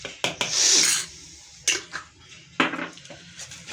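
Spices and ajwain are stirred into a chicken marinade for Lahori chargha, making three close scraping, rubbing bursts against a bowl with quiet pauses between, and no voices.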